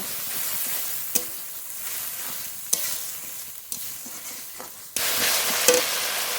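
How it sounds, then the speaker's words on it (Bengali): Spices with turmeric and a splash of water are sautéed in a pan, giving a steady close sizzle broken by several sharp stirring scrapes and a louder burst of frying near the end. "পরিমাণ মতো হলুদ গুঁড়ো একটু জল দিয়ে খুব ভালো করে কষিয়ে নেব"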